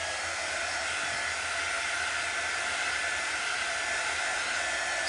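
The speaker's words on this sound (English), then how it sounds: "So I am just running my dryer over it." A hair dryer blows steadily over a freshly applied chalk transfer, a constant close whooshing roar that holds unbroken for the whole stretch with no voices.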